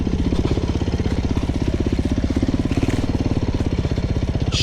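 A Beta 390 RR-S dual sport motorcycle ridden over a rutted trail: a loud, close, steady single-cylinder engine throb with a rapid even pulse, holding a constant pitch throughout without pause.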